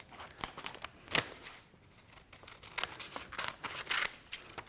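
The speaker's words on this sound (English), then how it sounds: "Let's cut that out." Scissors snip through paper while a collage shape is cut out by hand, giving a series of close, crisp cuts with faint paper rustling between them and no talking.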